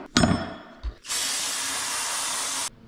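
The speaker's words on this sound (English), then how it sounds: "I'm gonna drop these alternator brackets into the parts washer." Alternator brackets for a KA24DE engine being cleaned in a parts washer: a steady, loud spray hiss lasting about a second and a half, preceded by a couple of brief knocks and clatters, with no talking.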